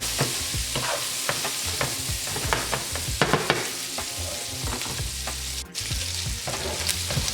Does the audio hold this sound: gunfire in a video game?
no